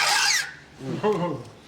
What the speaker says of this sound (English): If you sharpen on the wrong side, it sounds like this.